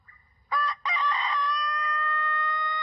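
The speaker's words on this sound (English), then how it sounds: "The Totenko is a fine example of a long crowing rooster." Totenko rooster, a Japanese long-crowing breed, lets out a loud, clear crow: a short opening note, a brief break, then a high sustained tone that holds steadily to the end, close to the microphone.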